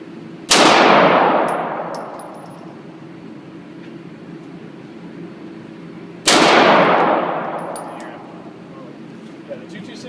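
Two loud, sharp SIG Sauer P226 pistol shots at an indoor shooting range, several seconds apart, each with a long ringing decay, over a low steady background hum.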